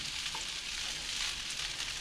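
Fried rice sizzling in melting butter while it is broken up and stirred in the pan, a constant close hiss with light scraping, no speech.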